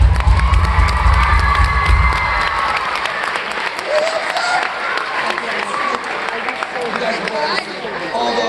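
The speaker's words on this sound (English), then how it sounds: "Give them one more huge round of applause" Loud audience cheering and applause fill a youth presentation hall, with shouting children and crowd chatter over steady clapping; a heavy low rumble opens the first two seconds, then the roar of cheers holds on throughout.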